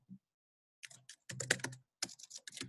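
Commands typed on a computer keyboard: a few quick, close bursts of clicking keystrokes separated by short pauses, quiet and with no one talking.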